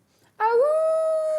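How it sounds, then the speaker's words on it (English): A dog named Katerina lets out a single loud, close howl that rises in pitch and then holds a long steady tone. "Give us a howl."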